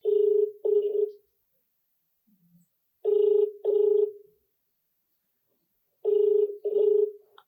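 A telephone rings in three evenly spaced bursts, each a double trill, with silence between rings; clear and close.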